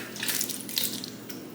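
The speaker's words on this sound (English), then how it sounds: "And we're going to put some water in it." A brief splashing pour of water into a container, close and moderately loud, then trailing off.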